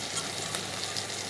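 Spice paste mixed in water goes into a pan of frying tomato, ginger and garlic for a potato chicken curry, producing a steady, moderately quiet sizzle with faint crackles and no talking.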